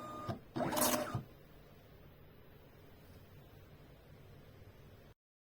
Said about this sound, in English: We will now print the barcode using a label printer.